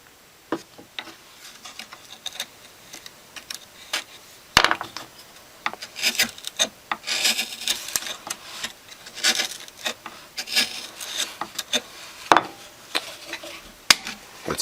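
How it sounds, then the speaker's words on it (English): Carving tool twisted into wood to clear excess around a snowman ornament's hat: irregular scraping, rasping and small ticking cuts, quiet and close, in uneven bursts with occasional sharper clicks. "Just apply a little pressure and twist, and you'll see you're removing the excess wood around the hat."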